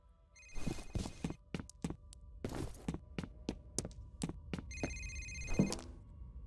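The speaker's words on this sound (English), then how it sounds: "Okay, I hear the phone." A telephone rings inside a horror video game, giving a series of sharp, bright electronic bell trills that repeat at uneven intervals over a low ambient hum, fairly faint and with no talking.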